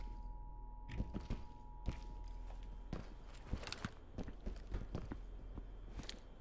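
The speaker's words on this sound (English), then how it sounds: "Footsteps." Footsteps in the tactical shooter game Ready or Not, a run of irregular soft thuds and taps that carry on steadily over a low hum, close and fairly quiet with no talking.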